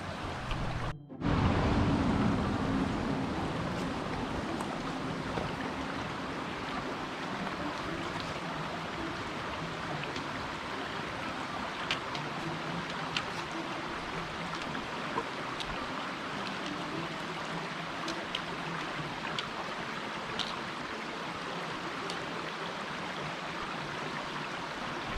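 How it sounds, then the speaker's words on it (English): A small creek on the Appalachian Trail in Maryland rushes steadily and evenly, a close, continuous wash of flowing water after a brief knock at the start, with no voices. "And now crossing this little creek here."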